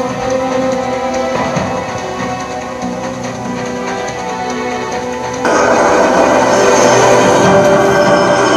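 A train rolls past nearby with a loud, continuous rumble and metallic rail noise that swells louder partway through, no voices over it.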